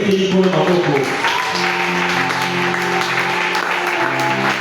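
A church congregation claps together in a steady, textured patter of applause, with voices sounding over it.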